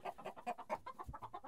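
A fighting rooster gives a quick run of sharp, repeated clucking calls in a steady rhythm, close and fairly faint, with no other sounds around it.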